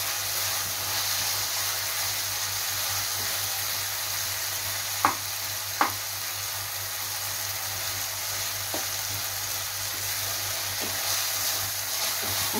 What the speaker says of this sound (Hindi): तो ये मसाला अच्छे से फ्राई हो गया है, प्याज टमाटर और लहसुन अदरक।